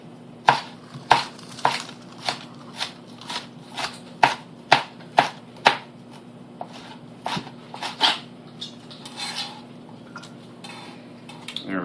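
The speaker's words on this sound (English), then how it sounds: "So take as much time as you need and just slice it very carefully." A knife thinly slicing cucumber on a cutting board, sharp distinct taps coming in a fairly steady rhythm, close and alone over a quiet hum.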